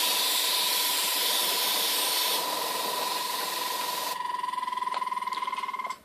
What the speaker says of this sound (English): that noise isn't me. I'm not on the end of a tube blowing it. This is my compressor.